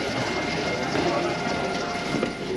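A small Stourbridge Shuttle train runs on its rails, giving a steady close rumble and rolling hum heard from inside, with no clear clickety-clack beats.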